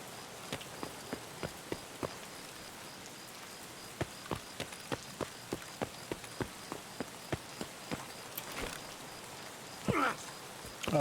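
Rain falling at night in a video game, a soft steady hiss under a regular run of sharp footstep-like taps, with a louder burst near the end and no speech.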